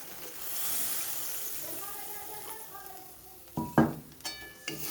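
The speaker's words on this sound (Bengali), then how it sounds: "এবারে আমি ঢেলে দেব পর্যাপ্ত পরিমাণে জল।" Water poured into a pan of cooked mustard-poppy seed paste for an egg curry, a brief burst of splashing and sizzling with a few clanks of the pan near the end, following quiet speech.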